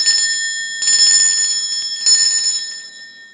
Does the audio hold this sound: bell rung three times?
yes